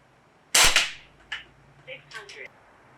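A single sharp crack from an Umarex Notos PCP air rifle firing 21.14-grain copper-colored H&N Barracuda Power pellets outdoors, followed by a few faint clicks and handling noises as the report fades.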